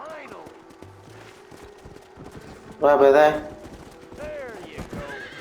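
A wild horse in the Red Dead Redemption game whinnies and stamps while being tamed, a loud neigh bursting out midway amid hoof clatter, with someone talking briefly over it.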